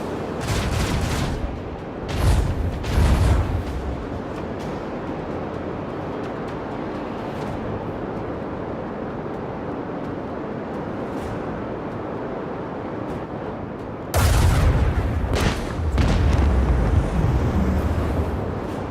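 Explosion in the void during a Rogue Trader space battle: a broad, loud burst of roaring blasts at the start, a long steady rumbling drone, then another heavy surge of booming impacts near the end.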